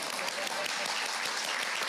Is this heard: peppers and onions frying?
no